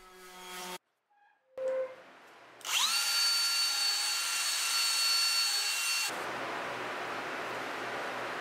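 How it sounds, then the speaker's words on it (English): An electric drill fitted with a wire wheel scrubs rust from the pitted cast iron of a second-hand wood stove. It gives a loud, steady high whine for about three seconds, then a rougher, noisier grinding, after short clatters of handling. "I just use a wire wheel on my drill."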